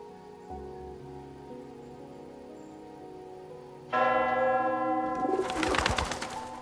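A bell rings out in the Love and Deepspace video game, entering partway through with bright sustained tones. Beneath it runs a steady ambient musical bed, and the ringing swells louder and denser toward the end.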